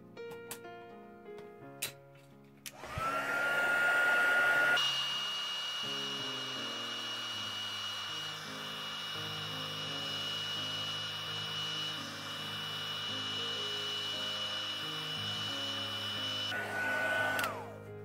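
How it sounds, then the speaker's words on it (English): A handheld heat tool blows a steady, loud whooshing roar for about fifteen seconds while drying stamping ink on cardstock, starting and stopping abruptly, with faint background music underneath. "So I recommend speeding it up with the heat tool."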